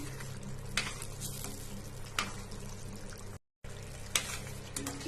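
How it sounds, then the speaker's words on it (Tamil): Thick tamarind sauce for puliyotharai bubbling and sizzling in a pan, a steady frying hiss with occasional sharper pops, close and moderately loud. "இது நல்லா கொதிக்குது"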